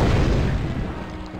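A Firestorm spell blast in the video game Hexen lands as a deep, rumbling boom that starts heavy and fades steadily over about a second, with no voices over it.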